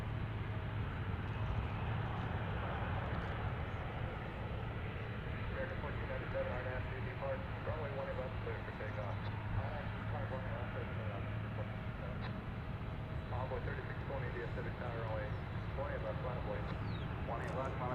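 A Frontier Airbus A321neo airliner at DFW airport makes a steady, distant jet engine rumble throughout, with people talking over the constant drone.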